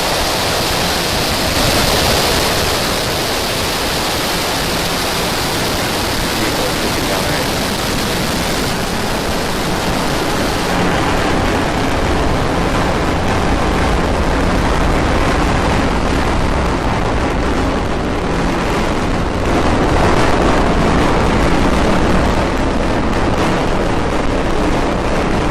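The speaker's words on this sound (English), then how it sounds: "Ignition. Liftoff of Falcon 9 and Starlink 8." Falcon 9 rocket lifting off with Starlink satellites, a loud, steady broadband roar that fills the whole clip, swelling slightly near the end.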